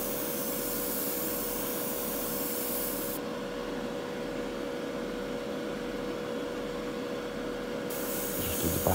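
Spray gun applying paint to a Johnston road sweeper, a steady continuous hiss of atomised spray running loud and close throughout with a faint constant tone beneath, no talk.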